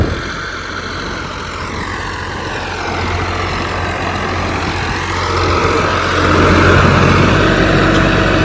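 A modified John Deere 5405 tractor runs with its diesel engine rumbling steadily nearby, the low drone swelling gradually louder over the last few seconds, with no one speaking.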